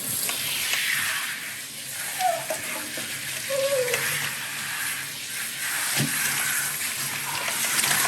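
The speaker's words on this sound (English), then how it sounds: "And then I'll rinse it right off." Water rinsing a senior pet's face, a soft continuous splashing hiss of running water close by, with faint brief sounds mixed in.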